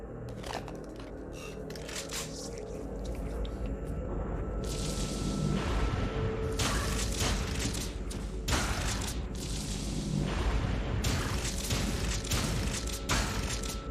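Shotgun blasts from a first-person shooter demo styled after DOOM 3, several booming shots with broadband bursts over continuous rumbling game ambience and mechanical noise, spaced irregularly across the stretch.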